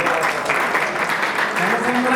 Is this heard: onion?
no